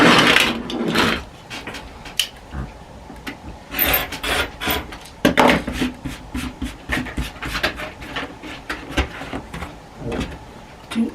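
Excess fabric is trimmed off the sides of a pieced star quilt block in repeated rough rasping, scraping strokes, close up, coming in uneven bursts with short pauses and no speech.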